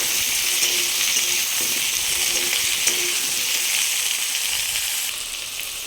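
Sliced onions and potatoes frying in a pan while being stirred, for a tangra fish curry: a loud, dense, continuous sizzle close by that eases slightly near the end, with no voices.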